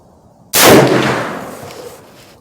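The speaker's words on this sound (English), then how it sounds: "I'm gonna shoot one more shot with the whitetail at the right upper target" One sharp, loud rifle shot from a 450 Bushmaster firing Hornady Whitetail 245gr soft point ammunition on a 75-yard range, with a sudden blast followed by a long echoing decay outdoors.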